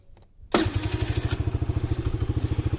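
A quad ATV engine cranks and fires back up after a short silence, then settles into a close, steady, thumping idle with a regular pulsing rhythm.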